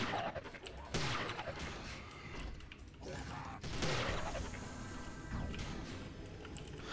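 Gunfire and impact crashes from a shooting video game, with irregular bursts of shots and mechanical clatter spread across the clip under continuous game noise.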